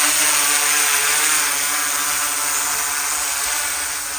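A steady, high-pitched whirring hum of a DJI Inspire 2 drone's spinning propellers, loud and close, holding constant and easing slightly toward the end.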